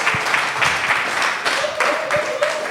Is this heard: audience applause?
yes